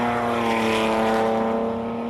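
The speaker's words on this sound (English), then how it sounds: "That's straight 6 Nissan engine." A Nissan Skyline R32 straight-six engine at a classic car hillclimb, droning steadily at high revs with a loud, sustained tone throughout, no voices over it.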